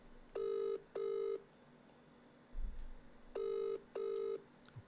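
A telephone rings with a classic double ring, heard twice with a pause between, clear against a quiet room and a brief low thump.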